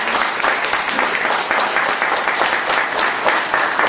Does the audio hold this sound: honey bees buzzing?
no